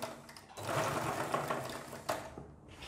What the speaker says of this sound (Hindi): इसके एक पैर के मार्जिन से इसे सिलाई लगाना है इस तरीके से